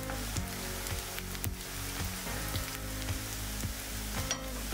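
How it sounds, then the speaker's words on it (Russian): Onion sizzles steadily in vegetable oil, a dense crackling hiss with occasional soft clicks of stirring. "Жарим лучок до легка золотистого цвета"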